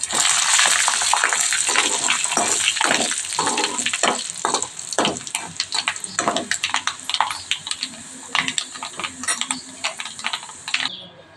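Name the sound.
hot tempering (popu) poured into dal, sizzling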